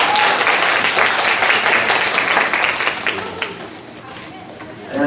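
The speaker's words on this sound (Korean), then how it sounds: "큰 박수로 맞으십시오." Loud audience applause welcoming the principal at a 2017 school admissions information session: dense, close clapping that fades away after about three and a half seconds, leaving faint room noise.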